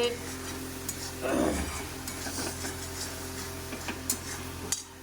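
Marinated chicken with turmeric is stirred and fried in a pan. A continuous close sizzle runs throughout, broken by occasional scrapes and clinks of a spatula against the pan, over a low background hum.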